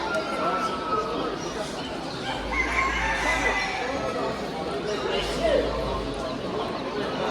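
Chickens and roosters at the Bursa poultry market cluck and crow among the stalls, mixed with steady crowd chatter and nearby voices talking throughout.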